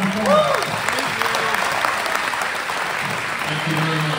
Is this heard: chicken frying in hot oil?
no